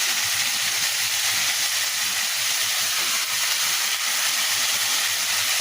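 Fried rohu fish pieces go into hot oil and a cooked-down spice masala in a home kitchen, raising a loud, steady, hissing sizzle that continues unbroken throughout.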